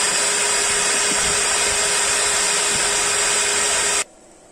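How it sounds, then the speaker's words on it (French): An 800-watt vacuum cleaner runs with a constant loud rushing whine and a sharp high tone, holding steady for about four seconds before stopping suddenly. "Donc là on a un aspirateur de 800 watts qui est allumé et tout fonctionne bien"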